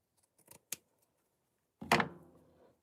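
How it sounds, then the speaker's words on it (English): A single scissor cut through a piece of craft stiffener, heard as a close, sharp snip with a short crunchy tail, after a couple of faint light taps; no talking. "I'm going to cut this piece"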